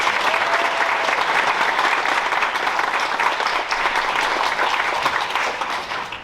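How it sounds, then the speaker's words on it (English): At a high school honor graduation night, a large crowd gives award recipients a sustained round of applause, dense and even clapping throughout that tapers slightly at the close. "Give those recipients one more round of applause."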